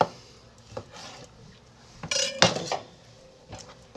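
A knife working on chicken leg quarters on a board, trimming away fat, heard as irregular close clinks, taps and scrapes of metal against board and dish, with one louder clatter burst midway and no voices.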